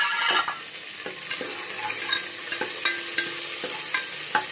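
Mustard seeds, curry leaves, green chillies and garlic sautéing in hot oil for a Tamil valakkaruvadu kulambu, a steady close sizzle with repeated scraping clinks of a spoon stirring the pan.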